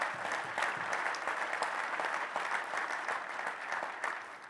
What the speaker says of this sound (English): how about a round of applause for him and his great leadership